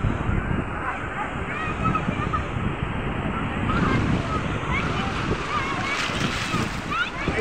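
Strong sea waves surge and crash against the Mumbai shore, a loud continuous wash of surf with heavy wind buffeting the microphone throughout.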